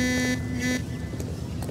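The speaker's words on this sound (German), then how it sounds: "Hör bloß auf mit dem Hupen." A car horn in the video game L.A. Noire honks in a few loud, sustained blasts over steady game engine and street noise.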